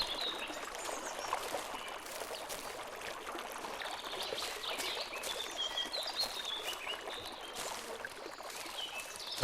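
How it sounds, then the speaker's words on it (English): Birds chirp over steady running water in a wilderness survival game set in the Carpathians, a continuous soft trickle and stream wash with scattered bird calls, moderately quiet and without speech. "Bird noises in the running water is like a nighttime ASMR sleep thing."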